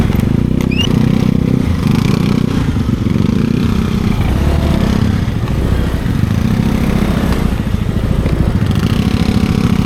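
A motorcycle ridden at night on a rainy-season trip toward a campsite in Daraitan, Tanay, Rizal, its engine a steady loud drone with rumbling low end throughout, no talking.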